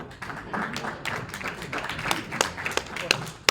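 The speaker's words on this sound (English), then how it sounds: "Notice the limited applause." Sparse, scattered clapping from a small group at a Rotary club meeting, a handful of uneven claps close by with a voice running underneath.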